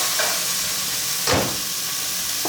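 Steak and potatoes sizzle steadily in a hot frying pan for a high-protein breakfast, a constant close hiss with a brief louder flare of spitting fat partway through.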